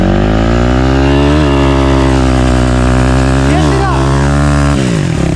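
A dirt bike on stock bald tires runs at full throttle, its engine screaming loud and close with a steady high-pitched drone and brief dips in pitch as the rider shifts.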